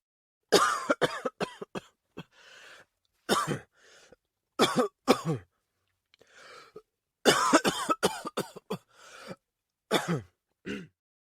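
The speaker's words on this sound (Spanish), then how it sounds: "¿Hace mucho tiempo que tiene usted esa tos?" Someone coughs repeatedly in harsh bursts and rough fits, with short pauses between them, close by and loud.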